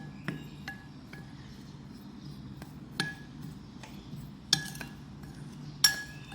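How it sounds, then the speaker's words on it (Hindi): A spoon clinks against a bowl while besan batter ingredients are mixed, giving a few sparse, light metallic taps over a quiet kitchen background. "मिक्स करेंगे इन सब चीज़ों को।"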